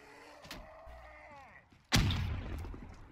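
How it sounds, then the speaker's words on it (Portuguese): A grenade explodes with a sudden loud, boomy blast and a long rumbling tail in Black Ops 3 Custom Zombies, after scattered gunshots and tonal game effects. "Joga uma granada aqui."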